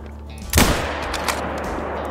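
A single sharp hunting rifle gunshot in the hunting video game Call of the Wild, loud and close with a booming crack that rolls off into a lingering echo.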